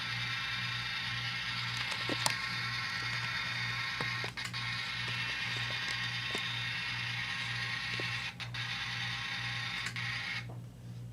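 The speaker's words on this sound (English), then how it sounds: "Oh yeah, I hear the dynamic brake now." Model locomotive running on dirty track with its dynamic brake sound playing, a steady whirring mechanical drone with a rhythmic low pulse and occasional clicks, cutting off near the end.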